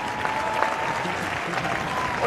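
Audience applause on a television variety show, welcoming a female police officer and her police dog onto the stage: dense, steady clapping that stays loud and even for a couple of seconds.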